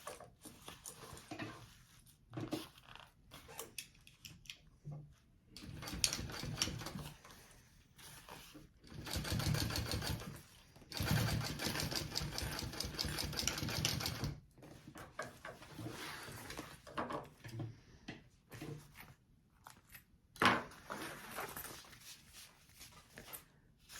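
A sewing machine top stitching through layers of fabric on a mini backpack, running in several bursts of fast, rhythmic whirring and clatter separated by pauses with small handling noises, close by.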